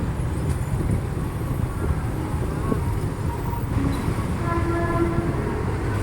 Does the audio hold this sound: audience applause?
no